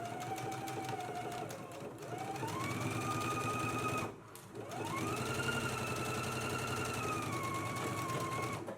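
A sewing machine stitches a dress seam in a long, steady run, with a brief dip in the motor about halfway before it picks back up and continues evenly up close.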